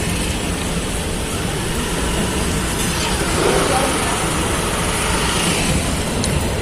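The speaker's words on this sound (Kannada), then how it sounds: "ರೈಲು ಹೋಗ್ತಾ ಉಂಟು. ಗೇಟ್ ಹಾಕಿದ್ದಾರೆ." A train rolls past a closed level crossing gate, a steady, loud rumble and rattle of wagons that fills the whole stretch without letup.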